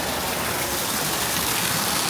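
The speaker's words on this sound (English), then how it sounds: "And you can see the waterfall from here." A waterfall in the Smoky Mountains, viewed beside a fish tank at a Bass Pro Shops, gives off a steady broadband rush of falling water that holds even and continuous throughout, with no voices over it.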